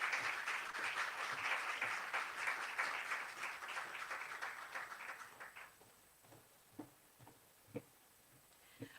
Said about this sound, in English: One more round of applause for June Sapong OBE.